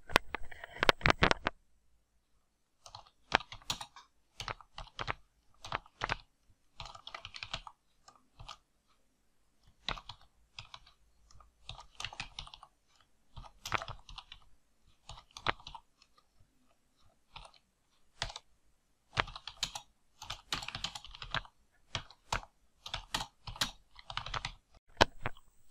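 Bursts of quick clicking keystrokes on a computer keyboard come while VBA code is being typed, with uneven clusters of taps broken by short pauses, close and fairly quiet, with no talking.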